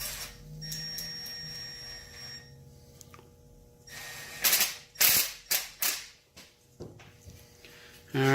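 Impact wrench tightening a 5/16 bolt on a Chrysler Town & Country during coolant leak repair, several rapid ratcheting bursts close up after a stretch of quieter shop noise, with no talking.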